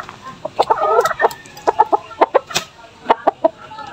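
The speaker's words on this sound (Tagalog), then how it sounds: "Hindi po mailap itong mga manok ko, mga alaga ko." Backyard hens clucking close by, a run of short sharp clucks and throaty calls in uneven bursts, loud and near over about four seconds.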